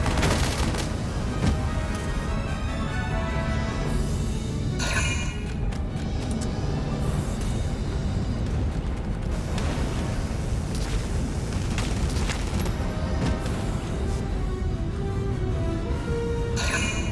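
Dense, continuous gunfire and repeated explosions from the Valkyria Chronicles 4 video game during Chapter 15 battle, loud and sustained with booming blasts and rapid shots layered throughout.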